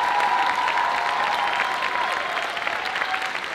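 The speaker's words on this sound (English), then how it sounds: "Let's give them an incredible round of applause" An audience applauds a troupe of sixty-plus dancers at a show, a dense, sustained roar of clapping from a large crowd that holds steady and tapers slightly near the end.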